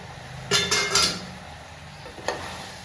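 Chicken drops into a pan of roasted onions and green chillies with a burst of loud sizzling and clattering, followed by a low steady fry and one more brief scrape-and-sizzle near the end.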